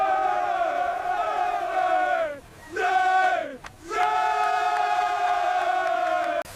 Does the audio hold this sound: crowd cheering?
yes